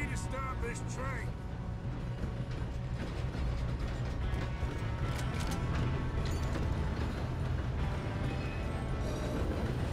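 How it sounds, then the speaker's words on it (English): A train in Red Dead Redemption 2 runs continuously, a dense clattering, rattling mechanical rumble of wheels and couplings that fills the whole stretch at a steady level, with voices faintly present underneath. "Come on, we need to stop this train."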